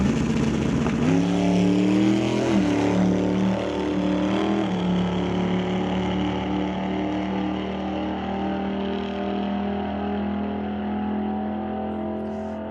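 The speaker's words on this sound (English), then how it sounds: "that 440 cubic inch Mopar engine underneath a 67 Plymouth Barracuda" Loud, close drag-race engine from a 1967 Plymouth Barracuda with a 440 cubic inch Mopar V8, a harsh revving roar that climbs and sweeps in the opening seconds, then settles into a steady powerful drone that slowly fades.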